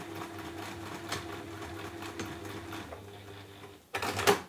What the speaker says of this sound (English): So sewn all around that top seam.